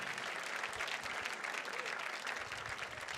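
Audience applause for donors at a mountaineering club gala, a dense wash of clapping filling the room steadily from start to end, with no pause.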